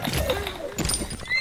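A horse in the video game Realm Royale whinnies loudly and close, followed by rough snorting and a second shrill neigh, with brief clattering in between.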